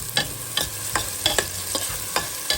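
Spoon stirring garlic, onion and tomato sautéing in a pan, a quick regular series of scraping strokes about every half second over a soft sizzle, close and clear.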